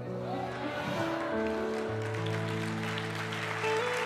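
A church congregation applauds during a sermon, a dense, steady clapping that fills the room, with sustained tones and voices blending in underneath.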